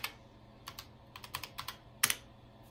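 Arrow keys tapped on an Apple IIe computer keyboard, a run of sharp, close clicks in an irregular rhythm with a louder double press near the end, no talking.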